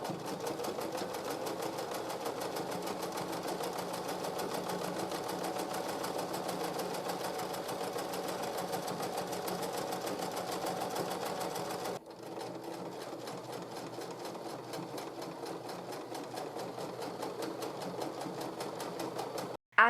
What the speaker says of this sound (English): add zigzag stitches around the art pieces to kind of give the effect of a frame